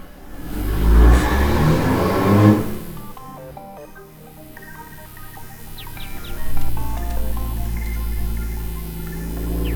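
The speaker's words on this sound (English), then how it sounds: "he's driving through a residential zone at max throttle" A car passes outside at full throttle through a residential area at night, its engine roaring up loudly then fading, with tonal chirps layered over a steady hum.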